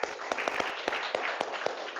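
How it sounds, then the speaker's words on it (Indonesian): A school class claps together for classmates, sharp separate hand claps landing in a loose rhythmic pattern over a steady room hiss, fairly close and with no speech. "tepuk tangan untuk kalian semua"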